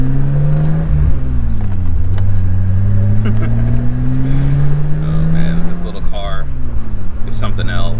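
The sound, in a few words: 1987 BMW 325i E30 convertible engine while driving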